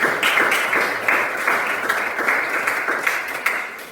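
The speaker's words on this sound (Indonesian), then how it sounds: "tepuk tangan untuk Delila dan Ani" A class applauding two students, Delila and Ani, in a Christian religious education lesson: steady, moderately loud clapping from many hands in a room, continuing evenly throughout.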